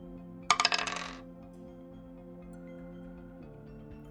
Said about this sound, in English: So yes, Algernon, go ahead and roll me a 2 dice indulge